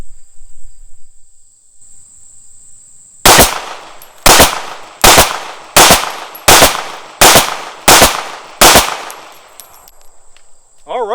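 Eight sharp pistol shots from a repaired Remington R51 ring out in steady succession, loud and close, after a few seconds of quiet outdoor background.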